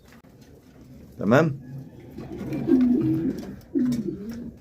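Homing pigeons cooing nearby in a pen, soft low rolling coos repeated in several bursts, with a brief wing flutter and someone speaking briefly.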